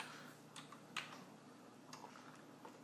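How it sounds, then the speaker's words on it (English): Keys being typed on a Commodore 128D keyboard, a few quiet, scattered clicks and taps over steady background hum, close by and faint. "I'm going to type in the familiar command here."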